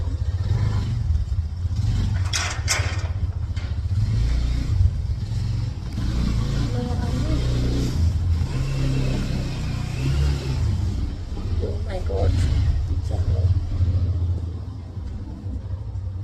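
A motorcycle engine rumbles close by, idling and revving unevenly for a long stretch, with occasional clatter and scrapes on top.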